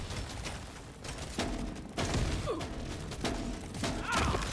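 Grenades burst against cave walls in Deep Rock Galactic: Survivor, making a rapid run of dull thumps and crunching blasts that overlap with constant game noise throughout.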